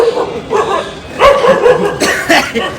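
A village dog barks and yips in a quick series of close, loud bursts, with a few short whimpering sounds between them outdoors.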